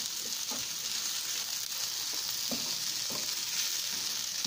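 Potatoes and marinated pork sizzle steadily in a frying pan, with occasional soft scraping as they are stirred.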